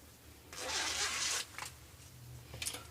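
A zipper on a handmade thermal lunch bag is worked during sewing, giving a loud, rasping zip of about a second, then a softer short slide and a brief final rasp. No one talks.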